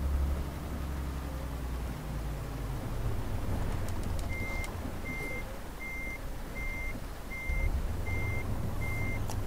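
Repeated reversing beeps from a truck backing an extra-long trailer into a narrow space in Euro Truck Simulator 2, a steady evenly spaced alarm over a constant low diesel engine rumble.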